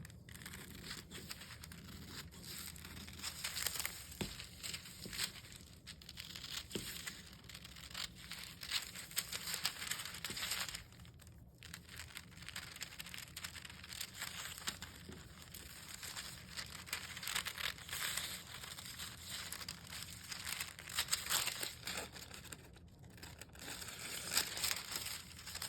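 Mesh drape material being cut out, a steady stream of soft crinkling and snipping rustles running throughout at close range, fairly quiet and with no talking.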